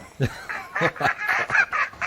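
A lone duck honks and quacks up close in a rapid series of harsh, nasal calls, about eight loud bursts in quick succession with no talk.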